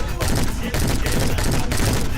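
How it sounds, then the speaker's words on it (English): A loud burst of gunfire sound effect in a rap music video plays as dense, continuous rapid shots over the full stretch, heavily mixed with the music. "I got jump scared by this loud gunshot noise."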